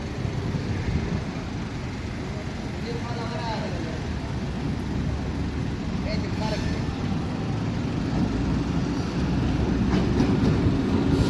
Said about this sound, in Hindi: वन 148 डाउन मियाँ वाली एक्सप्रेस जब करीब आने लगी